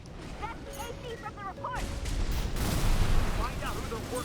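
Rocket fire in the mech combat game Armored Core VI, a run of heavy booming blasts and rumbling impacts building in loudness, mixed with battle noise and faint radio-style voices in the background.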